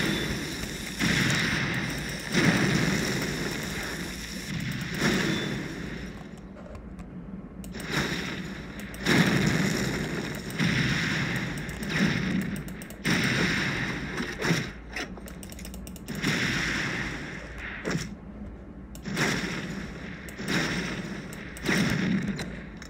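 Repeated booming blasts and mechanical thuds from the video game SAS: Zombie Assault 4, arriving in rhythmic bursts of explosions and gunfire that rise and fall steadily throughout.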